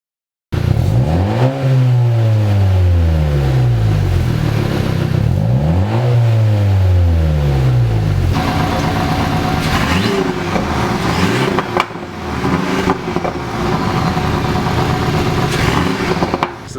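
Honda Civic Si with a race exhaust revving hard several times, engine pitch sweeping up and falling back in repeated loud bursts, then settling into a rough, steady idle rumble with occasional blips.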